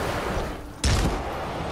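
A single sharp gunshot burst rings out in Dying Light, a loud broadband crack with a short decaying tail standing out against a steady game background.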